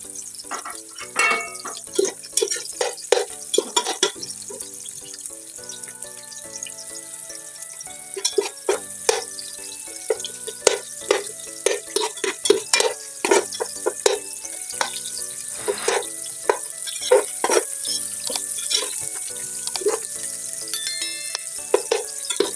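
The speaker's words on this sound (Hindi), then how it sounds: "प्याज डाल दिया है, अच्छी तरह भुन जाए और अच्छी तरह कलर दे दे" Onions fry in hot ghee in a pot for a fish curry. There is a soft sizzle with frequent clattering spoon strikes against the pot, irregular and close, and no one talks.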